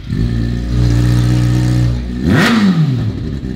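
A Kawasaki ZX6R sport bike with its exhaust removed idles with a loud, raw drone, then snaps through one sharp, rising and falling rev close by.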